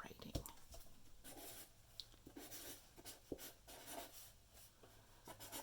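Pen scratching and rubbing across manifesto paper in a journal, soft and close, in short uneven strokes with small taps between them.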